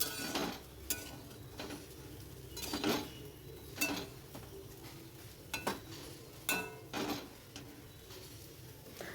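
Chowmein scooped from a pan into a school tiffin box in a village home kitchen: sharp metal clinks and scrapes of utensil against cookware, spaced irregularly over a quiet background.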